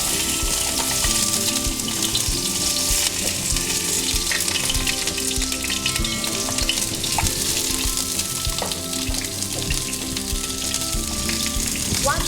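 Steady, continuous sizzling of onions frying in a hot pan, loud and close, with no talking.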